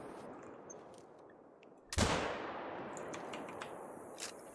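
A single loud rifle shot cracks from a hunting rifle in the video game theHunter: Call of the Wild, then trails off in a long reverberating echo over quiet outdoor ambience.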